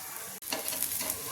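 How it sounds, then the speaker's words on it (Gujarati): Leftover roti frying in oil on a pan over medium flame: a soft, steady sizzle with a brief stirring or scraping motion, quiet and close, without speech. "ઉપરથી તેલ લગાવી દેવાનું છે ગેસની ફ્લેમ મીડિયમ રાખવાની છે ફાસ્ટ નથી કરવાની"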